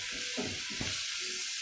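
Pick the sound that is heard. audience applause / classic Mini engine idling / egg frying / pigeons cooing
egg frying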